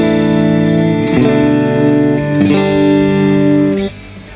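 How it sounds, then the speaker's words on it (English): Clean Fender Stratocaster electric guitar on the middle and neck pickups combined, playing sustained chords that change every second or so with rich ringing harmonics, close and steady, no voices. "But this time I'm going to move up to using the middle and neck pickups combined."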